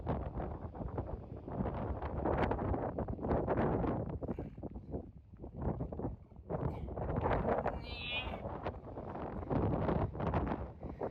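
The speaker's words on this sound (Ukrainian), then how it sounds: "І вітер. Він все ще тут." Strong wind buffeting the microphone in continuous rumbling gusts on the ocean coast at Punta de Teno, loud and close, with a brief faint chirp partway through.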